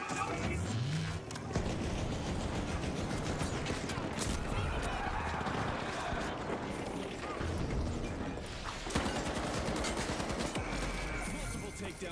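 Rockets fire and explosions go off in the video game The Finals, a continuous dense barrage of blasts, crashes and rattling impacts with a voice speaking underneath the chaos.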